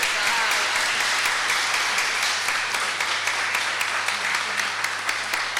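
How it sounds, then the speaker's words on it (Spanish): Steady applause from an audience at a lecture event, dense clapping running evenly for several seconds with a constant low hum underneath and no voices standing out. "No, un aplauso"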